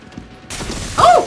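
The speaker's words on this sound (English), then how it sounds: "Surely they're blowing someone up." Explosions and gunfire in the video game Resident Evil Requiem: a quiet rumble gives way to a sudden broad blast, followed by a louder, ringing burst with shrill whining tones near the end.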